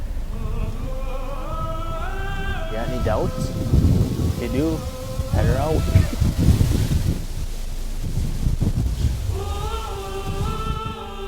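Wind of about 15 to 20 mph blows across open Iowa country and buffets the microphone in a continuous low rumble. Some faint voice-like tonal sounds rise and fall over it.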